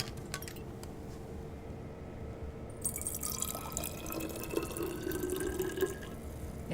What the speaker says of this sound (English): I will fill it with amine